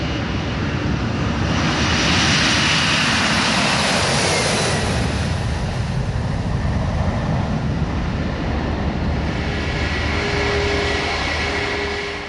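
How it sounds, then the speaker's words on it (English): An American Airlines Boeing 767 airliner departing for London, its engines roaring loud and close, swelling to a broad peak early on and then settling into a sustained, slowly fading rumble with no talk. "it's the turn of an American Airlines Boeing 767 departure for London"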